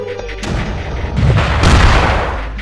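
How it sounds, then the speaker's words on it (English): An airstrike explodes in the Flash game Creeper World, a loud rumbling blast that swells and rolls on for a couple of seconds. "oh crap, airstrike! Airstrike!"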